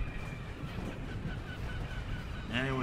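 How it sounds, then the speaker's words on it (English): Seagulls crying in the video game Brutal Legend, a few squawking calls rising over a dense, steady bed of game ambience, with the loudest call coming near the end. "And there's more seagulls."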